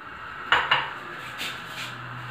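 Two sharp clattering knocks of a metal pressure cooker pot in quick succession as meat is added, followed by softer scraping and shuffling, close by with no voices.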